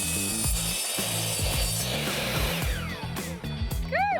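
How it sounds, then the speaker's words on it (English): A miter saw makes simple straight cuts through wood pieces outdoors: a series of short, rhythmic mechanical bursts close by, ending with a few sharper whines. "To make our cuts, we're just using a miter saw outside,"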